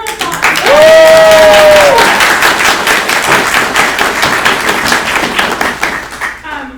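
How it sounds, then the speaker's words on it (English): Applause breaks out at an awards ceremony, with dense clapping and a loud whoop or cheer near the start, continuing steadily for several seconds before tapering off at the end. "Yes, everyone applause."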